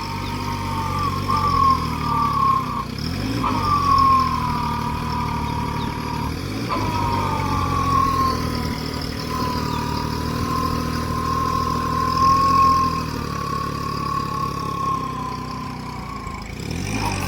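A Kubota mini tractor engine labours steadily as the machine pulls free of mud, a continuous mid-pitched drone with a whining harmonic that shifts slightly in pitch, close and fairly loud throughout.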